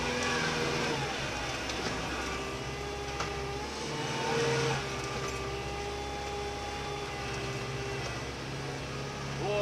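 A Kubota GL5740 tractor engine runs at steady throttle and rises slightly, a continuous close drone with harmonic hum, alone without talk.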